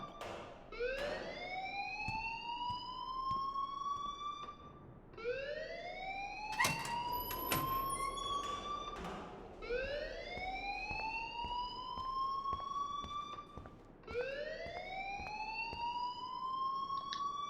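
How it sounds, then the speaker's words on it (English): A school alarm in the video game Life is Strange wails in repeated rising sweeps, four or five cycles in steady succession, heard at moderate level against a faint background. "please turn off that alarm since that's your job"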